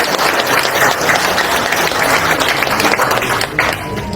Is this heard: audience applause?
yes